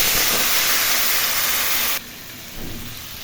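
Boiled mango drops into hot oil with panch phoron and dried red chilies, giving a loud, bright sizzle for about two seconds before easing to a quieter hiss.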